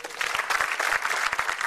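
Studio audience applauding at a stand-up comedy show celebrating Metro TV's 11th anniversary, a steady, dense wash of clapping lasting under two seconds with no talk over it.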